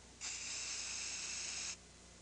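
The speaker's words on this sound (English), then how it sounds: "This is the leading aerosol antiperspirant brand." An aerosol antiperspirant can sprays in one continuous bright hiss lasting about a second and a half, close and loud, starting and stopping abruptly against a quiet background.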